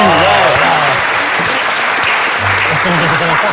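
An audience applauds at a lookalike show, the clapping dense and steady throughout, with voices talking over it.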